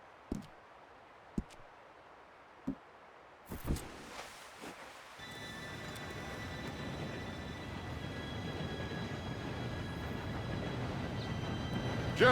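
A steam train in the Red Dead Redemption 2 video game approaches, rising from a few sharp clicks into a steadily building rumble and rattle that grows louder toward the end.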